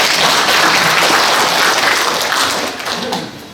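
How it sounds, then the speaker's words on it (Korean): A crowd at an international forum gives loud, close applause that holds steady and then begins to thin and fade near the end. "우리 박수 한번 보내요"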